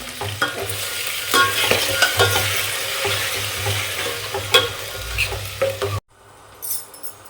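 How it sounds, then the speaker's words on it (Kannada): Onion and lentils frying in oil in a pan, a continuous sizzle with repeated scraping strokes of stirring, ending abruptly into near quiet with a faint light rattle. "ಎಣ್ಣೆಗೆ ಈರುಳ್ಳಿ ಹಾಕೊಂಡು ಬಾಡಿಸ್ಕೊಂಡು ಆಮೇಲೆ ಇಟ್ಟಿಗೆ ದಾವ್ರಾಯ್ ಬೇಳೆನ ಹಾಕ್ತಾಯಿದ್ದೀನಿ ಇದನ್ನು ಕೂಡ ಚೆನ್ನಾಗಿ ಫ್ರೈ ಮಾಡ್ಕೋಬೇಕು"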